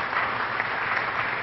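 Audience applause at a startup pitch competition for a mobile news app, a short, dense burst of clapping at steady volume.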